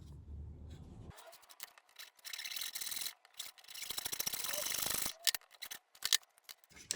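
A fine-toothed saw cuts fret slots in a guitar fretboard to depth, rasping in quick, close back-and-forth strokes in uneven bursts after a low opening murmur.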